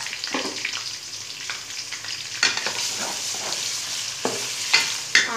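Onions fry in hot oil in a kadai for a chicken and cauliflower curry, giving a steady close sizzle broken by several scraping stirs and brief louder crackles, with no one talking.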